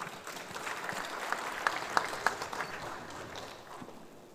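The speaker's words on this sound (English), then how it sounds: "A round of applause, ladies and gentlemen." Audience applause at an evening summit gathering in Colombo, a steady wash of many hands clapping at moderate distance, with a few sharper individual claps standing out midway through.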